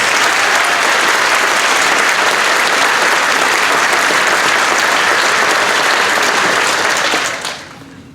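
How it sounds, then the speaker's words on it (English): An audience at a high school spring awards concert claps loudly and steadily for the student performers, a full even roar of applause that holds for about seven seconds before quickly dying away. "Let's give them all one big round of applause."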